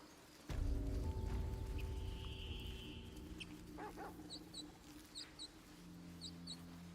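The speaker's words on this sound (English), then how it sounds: "Wait, I heard Scratch bark." A dog companion barks in the video game Baldur's Gate 3, a few short, high-pitched bursts in the latter half of the clip, fairly faint against a steady outdoor game ambience with a low rumble.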